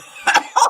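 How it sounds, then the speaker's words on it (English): A woman's short, sharp cough, two quick bursts followed by a third a moment later, close and fairly loud in a quiet room. "Oh my God, you made me cough."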